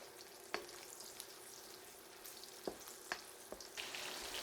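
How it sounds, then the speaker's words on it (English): Battered chicken pieces for Finnish long drink chicken (lonkerokana) fry in hot oil, a steady sizzle with a few sharp crackles and pops scattered through it, heard close up with no talking. "keep on frying more batches"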